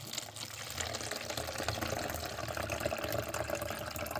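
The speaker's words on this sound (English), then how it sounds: "we're going to pour water in, and we're going to go to the bottom" Water pouring steadily into a bowl of flour, a continuous splashing rush of liquid that holds fairly level throughout with no talking.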